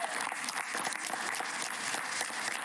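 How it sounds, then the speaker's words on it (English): Crowd applause for the winning Team Pulse Racing at the Cybathlon, continuous, dense clapping at a constant level, sounding somewhat distant and subdued. "Great applause for the team."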